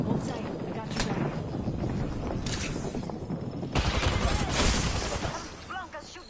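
Sustained bursts of gunfire in the video game Apex Legends, loud and close, swelling into a heavier volley midway, with a voice talking over the shooting.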